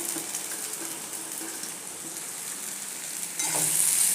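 Chopped okra fries in oil over a high flame with onion that is already browned, a steady sizzle close by, which swells louder and brighter near the end.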